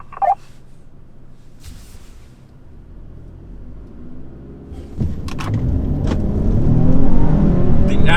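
A naturally aspirated car pulls away in normal drive mode, the engine rumble building steadily louder as it accelerates after a quiet idle, with a few brief knocks early on.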